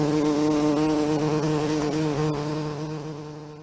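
A bumblebee hovers close by, buzzing in a steady low drone with rich harmonics that fades slightly toward the end, with no voices over it.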